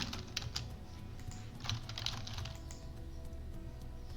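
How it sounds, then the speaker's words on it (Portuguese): Quick, fairly steady keystrokes on a computer keyboard during a lesson in which text boxes are being filled, heard close and alone at low level. "Digita umas coisas aqui."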